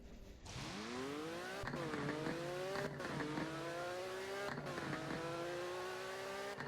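A Porsche engine in the Roblox game Driving Empire revs up with rising pitch, easing off and climbing again several times in a loud, steady acceleration with no talking.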